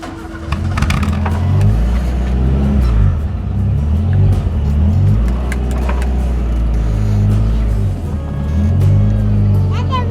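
An old car pulls away with a loud, close engine rumble that rises and shifts as it revs, while people talk over it.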